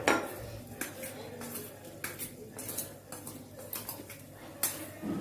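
Paneer butter masala spices and pieces being mixed in a pan, a run of close, irregular clinks and scrapes of a spoon against metal over a low background hum.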